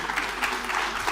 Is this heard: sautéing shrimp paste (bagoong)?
no